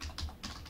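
Quick keystrokes on a computer keyboard while text is entered in an Excel spreadsheet, a short, soft burst of several close clicks with no talking.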